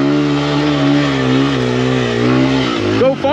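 A Honda XR farm bike engine revs hard uphill on a mountain enduro trail, a loud, close, sustained drone whose pitch wavers with the throttle, then drops off abruptly at the end.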